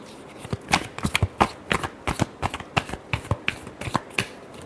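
Tarot deck shuffled up close, a dense string of sharp papery flicks and taps in uneven rhythm, fairly loud and without any talking.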